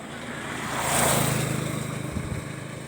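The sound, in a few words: fast motorboat passing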